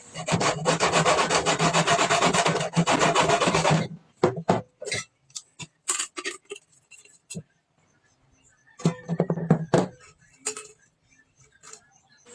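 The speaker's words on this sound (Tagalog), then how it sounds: "iniliha ko lang yan ang gilid dyan sa tinanggalan natin ng ulo ng spray paint para hindi po ito matalas" Cut metal edge of a spray paint can being sanded, a dense rough scraping for several seconds, then short bursts of rubbing and a final longer scrape, close and fairly loud.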